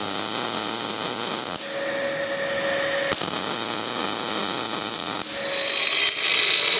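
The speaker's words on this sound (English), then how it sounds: "now I can actually start welding it in" Steady, loud crackling hiss of welding a metal patch into the fender of a David Brown 990 tractor, running continuously with two brief breaks.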